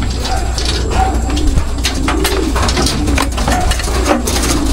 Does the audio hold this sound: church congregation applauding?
no